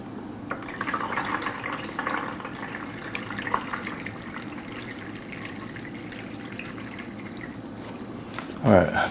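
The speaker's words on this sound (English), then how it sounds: "pour some water in here." Water poured into the reservoir of a SciCan STATIM 2000 dental cassette sterilizer, a steady close trickle and splash running for several seconds, ending in a brief louder clatter.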